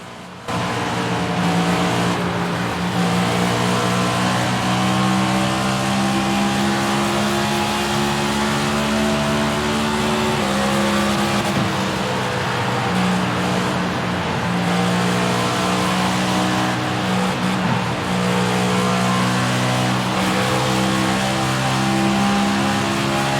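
Onboard view of Kyle Busch's NASCAR Cup race car at Darlington, South Carolina, in 2023: a loud, steady V8 engine drone with shifting harmonics, holding high revs throughout with a brief dip in pitch midway, no talk.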